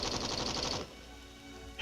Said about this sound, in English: it has developed a new lighter-weight general-purpose machine gun